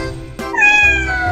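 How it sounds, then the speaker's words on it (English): A cat's meow in the Roblox game Brookhaven, one loud drawn-out cry that rises and then slides down, close and clear, preceded by a brief sharp sound effect. "That's not a dog, that's a cat!"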